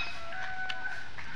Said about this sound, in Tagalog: Ito kaibang manok, mga kaibang manok, mga ibang variety ng manok, ibang lahi ng manok.